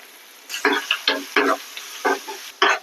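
Chopped onion drops into hot oil tempered with cumin, turmeric, asafoetida and curry leaves, giving short bursts of sizzling and stirring over about three seconds with quiet gaps between them.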